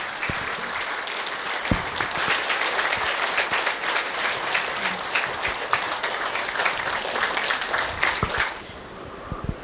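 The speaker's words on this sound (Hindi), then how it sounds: "सभी ताली बजा के स्वागत करेंगे।" An audience claps to welcome a Brahma Kumaris class speaker, with sustained dense applause and sharper individual claps for about eight and a half seconds before it drops off abruptly into quiet.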